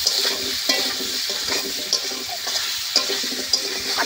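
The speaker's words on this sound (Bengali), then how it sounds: "একটু লবণ আর একটু হলুদ গুঁড়ো দিয়ে আলুটা ভালো করে ভেজে নেব।" Potatoes frying in a pan with salt and turmeric, giving a close, continuous sizzle broken by periodic scraping stirs and light clinks every second or so, with no voices.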